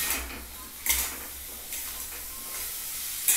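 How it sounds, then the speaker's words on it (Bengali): Vegetables and dalia (broken wheat) frying in a pan, with a continuous sizzle broken by a few sharp clinks and scrapes of a spoon stirring against the pan. "এটাকে একটু পাঁচ মিনিটের মতো ভাজতে দিচ্ছি কাঁচা গন্ধটা যাতে একদম বেরিয়ে যায়"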